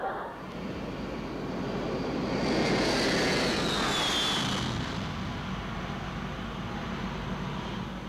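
A BWIA Sunjet airliner bound for London roars past, a broad jet engine rumble swelling to a peak with a high whine near the middle before settling into a steady drone.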